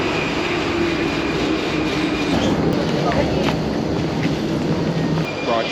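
Steady loud rumble of a Prague metro train ride, continuous broadband roar with faint squeals, while someone talks quietly over it.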